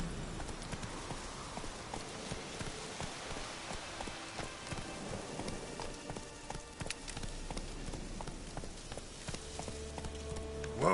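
Hooves of the horse Roach in The Witcher 3 clip-clopping on the ground in a steady trotting rhythm, continuous and moderately close, with faint ambient game sound behind.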